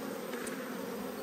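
Honey bees buzzing around a hive, a steady insect drone holding throughout at close range with no voices.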